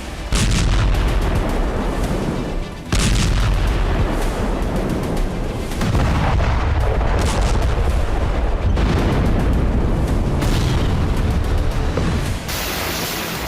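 Heavy explosions and artillery-style blasts from a Russian military bombardment of Ukraine, a loud continuous barrage of booms and crackling impacts with no speech.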